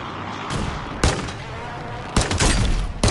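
Gunfire in a shooter video game with shotguns and snipers, several loud, sharp bursts of rapid shots close by, separated by short gaps, with a long rattling volley near the end.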